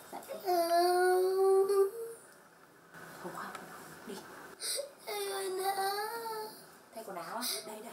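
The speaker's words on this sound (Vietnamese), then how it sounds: "bắt đầu một ngày mới bằng tiếng khóc" A young child cries at home in the morning in drawn-out wailing bursts that break off into whimpers between cries.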